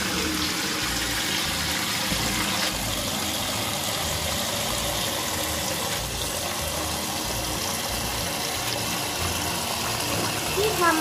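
Bean sprouts washed under running water, a continuous rushing, splashing flow with sloshing, steady and close throughout, with a person talking over it.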